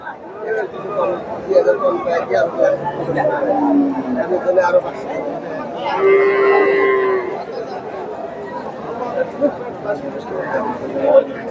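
Cattle lowing at a busy rural cattle market where indigenous dairy cows and calves are being sold, with moos rising over a steady babble of voices and nearby chatter.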